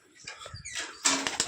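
Pigeons flap their wings inside a coop, close by, in short irregular bursts of fluttering that grow busier toward the end.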